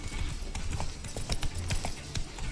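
In The Witcher 3, horse hooves clip-clop in an uneven, steady trot, moderately near but fairly quiet, with faint background game sounds.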